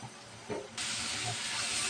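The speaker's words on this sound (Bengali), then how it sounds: "মশলাটা আমি ভালোভাবে কষিয়ে নেবো" Spice masala with chilli, coriander and cumin powders and salt frying in a pan for a koi fish curry with ripe tomatoes; a quiet stir, then a sudden loud steamy hiss that holds steady.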